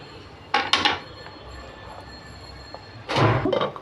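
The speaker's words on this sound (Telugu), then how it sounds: "మూత పెడదాం." A lid goes onto a cooking pot of tomato upma, two short metallic clattering bursts, the first around the start and a longer clinking rattle later, close and moderately loud against a quiet kitchen.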